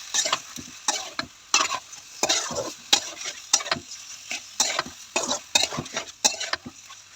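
Pasta tossed with mustard flowers, onion and garlic in an oiled frying pan, stirred steadily: repeated scraping strokes about every half second over a soft sizzle, close and fairly quiet.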